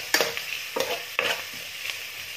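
Chicken being stirred and sautéed in olive oil in a pan, a steady sizzle broken by a few scraping stirs of the utensil, close and clear with no talking.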